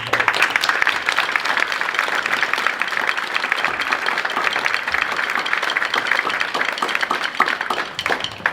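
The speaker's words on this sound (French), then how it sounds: "Je pense qu'on peut l'applaudir." An audience at a commemorative ceremony in Saint-Georges-de-Mons gives sustained applause, with sharp individual claps rising out of a dense, steady roar of hands.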